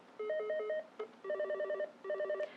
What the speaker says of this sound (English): So I'm going to push Ringer Pitch, and then you can scroll through the different options here.